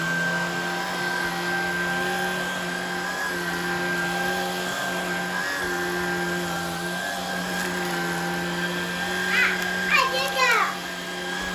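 A Shark Vertex vacuum cleaner runs steadily on its carpet setting at moderate loudness, a constant motor hum with tonal whine, while children's voices chatter over it near the end.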